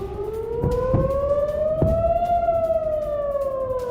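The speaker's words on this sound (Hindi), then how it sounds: "हमले के दौरान बज रहे सायरन।" A wailing air raid siren rises slowly in pitch and holds during a rocket attack on Kiryat Shmona, Israel, with a few dull thuds and bangs underneath, no voices.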